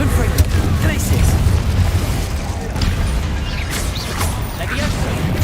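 Spell blasts from the Confringo fire spell in Hogwarts Legacy, loud booming explosions that layer over a dense rumbling game soundscape, with a spoken voice calling spells on top.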